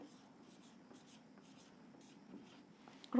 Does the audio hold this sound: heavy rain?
no